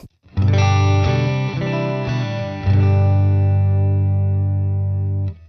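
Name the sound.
electric guitar on middle pickup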